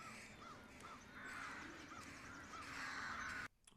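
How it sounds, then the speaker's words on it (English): Crows caw repeatedly outdoors at a moderate distance, a steady series of harsh calls about every half second over a broad noisy background, cutting off abruptly at the end. "Okay, what is up with the crows out there?"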